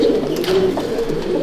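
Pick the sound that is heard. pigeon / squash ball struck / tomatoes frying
pigeon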